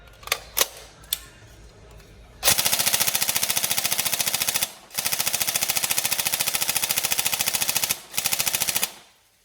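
Upgraded Tokyo Marui MK18 NGRS airsoft gun firing full auto in three long, rapid bursts with short pauses between them. Before the bursts come a few sharp clicks. The shots are loud and close, with no talking.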